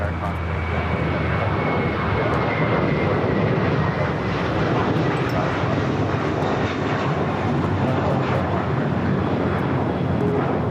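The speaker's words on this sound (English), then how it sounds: "That Air Canada 787-8 Dreamliner now starting to taxi, heading to 25 at right." Air Canada Boeing 787-8 Dreamliner taxiing at LAX, heard as a continuous, distant jet engine rumble and whine holding steady across the whole stretch.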